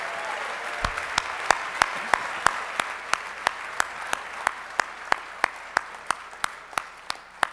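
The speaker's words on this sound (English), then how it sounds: "Could we have a resounding cheer for all of our 2020 Allegheny County" A crowd at a Republican county dinner applauds its candidates: a dense, close wash of clapping with one loud, sharp clap repeating steadily through it.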